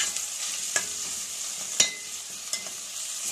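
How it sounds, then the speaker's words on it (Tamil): Ginger and garlic sautéing in oil in a pan for a sprouted gram curry, giving a steady soft sizzle with a few sharp scrapes of a spoon against the pan, close up and without speech. "பூண்டை நல்லா வதங்கட்டும்"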